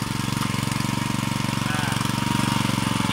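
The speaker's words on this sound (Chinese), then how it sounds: "发动机开始了" The small engine of a kerb line striping machine with two paint guns runs steadily up close, a loud, rapid, even chugging pulse with a rough mechanical rattle and no breaks.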